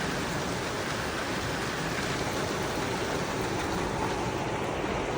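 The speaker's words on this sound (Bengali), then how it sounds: "বৃষ্টি এখনো যেইকার সেই পড়ছে" Heavy rain pouring steadily over a waterlogged area with flooded drains, a dense unbroken wash of noise at constant loudness throughout.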